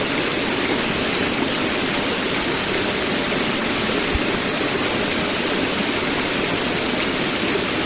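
A cold mountain stream on a muddy hiking trail in the Daba Mountains, Shaanxi, rushes in a loud, constant wash of flowing water, close by and unbroken, with no voices over it.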